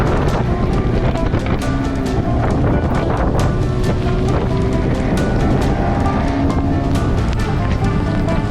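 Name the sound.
wind gusting while sailing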